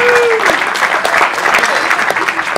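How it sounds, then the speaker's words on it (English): Audience applause greets a ventriloquist at a ventriloquist convention, a dense clatter of many hands clapping, fairly loud and continuous, with a brief whistling tone at the start. "please give a round of applause from Akron, Ohio, David Weyrick"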